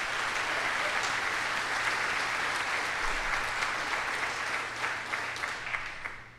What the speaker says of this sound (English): Let's have a round of applause for the KDA.